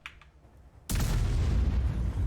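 A sudden heavy cannon boom from an Object 268 Version 4 tank in a video game erupts after a short quiet moment, followed by a loud, rumbling roar that keeps going.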